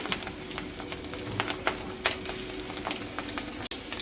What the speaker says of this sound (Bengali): মাছের ডিম ভাজার সময় একটু সাবধানেই ভাজতে হয়, না তো পটো পটো করে ফুটতে থাকে